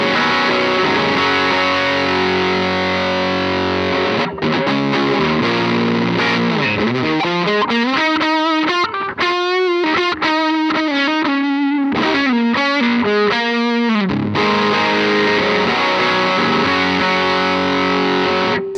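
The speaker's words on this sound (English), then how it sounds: "Just like a distortion-y kind of fuzz." Electric guitar played through a Pigtronix Disnortion pedal in its no-filter fuzz position on the neck pickup, giving a thick distortion-like fuzz: sustained chords and a run of choppy, rhythmic notes in the middle, loud and close with no talk.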